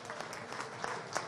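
Brief burst of crowd applause at a stadium racing show, steady clapping from an audience close by, lasting only a moment.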